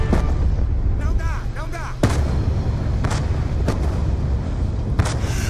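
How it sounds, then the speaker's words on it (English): Mortar fire in Call of Duty Black Ops 2, loud booming blasts and sharp cracks repeating over a dense, roaring battlefield din, with voices shouting over the noise. "the mortars have stopped!"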